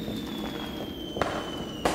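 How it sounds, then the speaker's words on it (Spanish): Fireworks go off in the video game Dark Deception, sharp bursts popping at intervals, two louder cracks standing out over a dim ambient hum. "con fuegos artificiales y todo"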